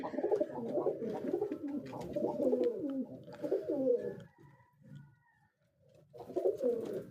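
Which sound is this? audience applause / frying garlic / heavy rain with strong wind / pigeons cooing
pigeons cooing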